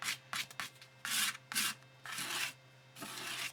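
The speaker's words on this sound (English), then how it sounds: "I actually had a couple of things on my mat. So what I like to do is I scrape them off." Printed paper pieces are scraped off a sticky Cricut cutting mat in repeated short, rough rasping strokes, close and fairly loud, with brief pauses between passes and a steady low hum underneath.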